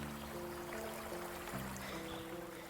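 Fast-flowing river water in the SOS Incident video game rushes as a steady, faint wash of noise with no breaks or voices.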